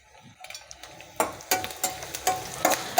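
Green chilies and curry leaves fry in a pan on medium flame as a spoon stirs. A soft sizzle sits under sharp, repeated scraping clinks, which strike at a quick, uneven pace, and no one speaks.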